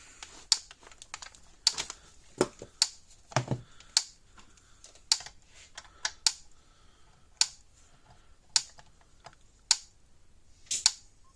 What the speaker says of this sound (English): All right, it's clicking and pulsing.